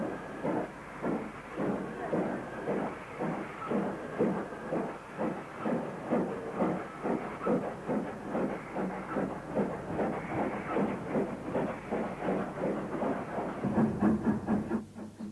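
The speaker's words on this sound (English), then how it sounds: "Although a larger locomotive, this Britannia number 70031 had a smaller tender than the Class 5." A British Railways Britannia steam locomotive, number 70031, working in the 1950s at Birmingham New Street, with steady, rapid exhaust chuffs over a continuous hiss of steam that last the whole stretch.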